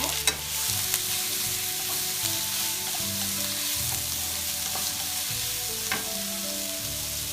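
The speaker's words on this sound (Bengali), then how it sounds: "তেলটা গরম হলে আমি পেঁয়াজ কুচিগুলো দিয়ে দিব" Chopped onions fry in about three tablespoons of hot oil in a frying pan, giving a loud, continuous sizzle broken by occasional sharp stirring clicks, with no voices.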